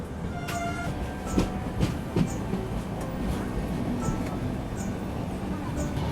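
A train pulling away from a station on a scenic Odisha rail route, a low rumbling run with a few clanks and knocks of the wagons and faint high squeals, steady and moderately distant.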